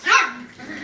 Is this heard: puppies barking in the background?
yes